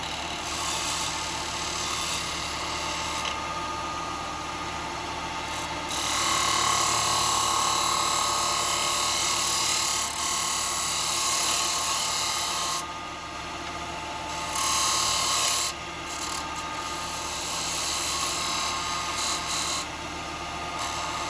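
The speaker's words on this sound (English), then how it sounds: "I'm going to use my square carbide just to clean this edge here" A square carbide turning tool cleans the edge of a wooden lid blank on a lathe, giving a steady scraping, whirring cut with brief dips and surges as the tool meets the spinning wood, alone with no talk.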